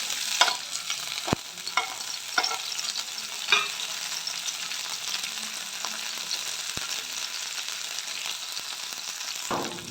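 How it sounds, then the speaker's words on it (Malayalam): Curry leaves dropped into hot coconut oil in a pan, a steady crackling sizzle with a few sharp pops and stirring clatters, fairly close and with no talking. "ഇനി ഇതിലേക്ക് അപ്പോൾ അതിലേക്ക് കരിവേപ്പിലിട്ട് കൊടുക്കുകയാണ്."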